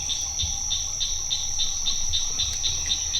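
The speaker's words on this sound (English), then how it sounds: "cricket frogs make that noise that's like tick" Cricket frogs call with a regular series of sharp, pebble-like clicks, evenly spaced about three per second over a steady background hum of insects and night ambience.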